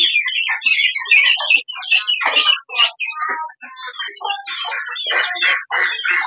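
Racing pigeons at a club loft make a run of close squawking calls and chirps, overlapping and nearly continuous, loud and alone.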